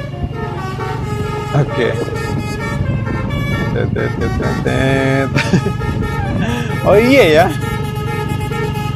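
A Basuri bus horn plays a warbling musical melody amid road and engine noise, with people talking nearby.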